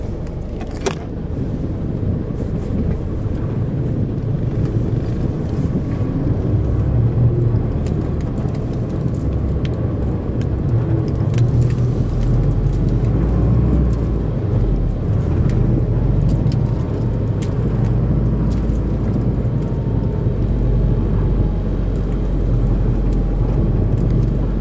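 The engine of a Mercedes Travego coach idles steadily for the full stretch, a loud, deep and constant rumble heard close up. There is no talking, and only a brief click is heard near the start.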